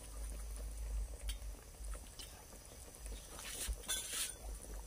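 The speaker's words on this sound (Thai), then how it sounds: "แล้วก็รอให้หมูเดือดอีกหนึ่งหนก่อนจ้ะพอหมูเดือดเราก็หรี่ไฟลงหน่อยนึง" Pork bones boiling in a pot for a Chinese herbal stew, a faint, continuous low bubbling simmer with a few soft splashes and no talking.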